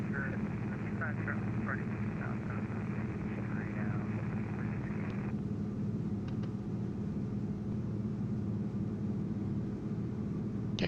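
Wilga light airplane approaching to land near Nome, Alaska, its engine a steady close droning rumble heard from inside the cabin, with a muffled voice talking over the first half.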